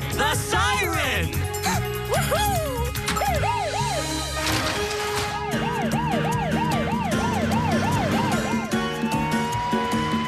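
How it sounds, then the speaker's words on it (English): A fire-team emergency siren in an animated children's show wails loudly and steadily in repeated rising and falling sweeps, layered over busy background sound and music. "The siren!"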